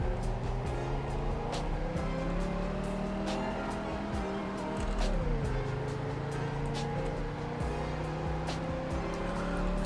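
A classic car with a 3-speed gearbox and no power steering, in the Roblox game Greenville, accelerates on the road, its engine droning steadily with pitch rising through the gears and a brief shift dip, loud and continuous.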